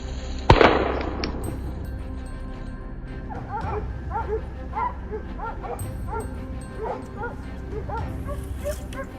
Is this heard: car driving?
no